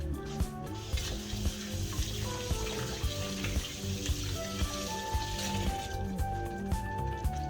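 Kitchen tap running while something is rinsed off in a sink, a steady close splash and gush of water with a faint repeating tap and soft background music, no talk.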